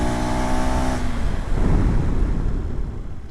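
A 2026 KTM Adventure 390 braking hard with rear ABS switched off: the engine note drops away abruptly and rough tyre and wind rush takes over, loud and close, with no talk.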